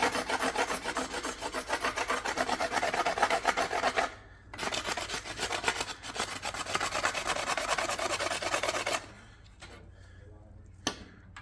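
Steady rasping of sandpaper rubbed back and forth on a wooden hiking stick, continuous strokes with a couple of short pauses, close and fairly loud.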